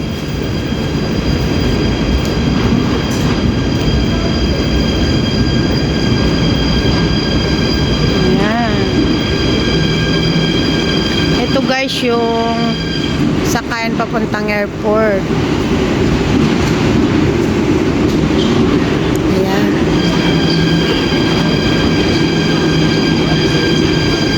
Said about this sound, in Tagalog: airport na train